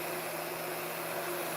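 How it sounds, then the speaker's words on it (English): A heat gun runs continuously, a steady, faint whirring fan hum with a low electrical drone, alone and unchanging throughout. "I'm trying to cool the heat gun down here a little bit."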